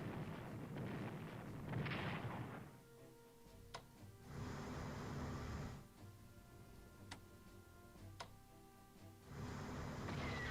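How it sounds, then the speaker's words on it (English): Battleships bombard an enemy base in the Strategic Command: World at War strategy game, with bursts of booming artillery-like rumble separated by quieter stretches and sharp clicks, loud and alone with no talking. "I can use my battleships here to bombard this base also and further hurt their supply."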